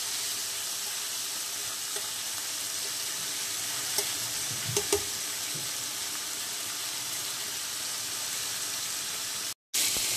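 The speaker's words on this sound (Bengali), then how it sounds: "এটা হাই ফ্লেমে ভালো করে ভেজে নিতে হবে।" Chicken frying on high flame in a pan, a steady broad sizzle throughout with a few soft clinks of stirring midway and a brief dropout near the end.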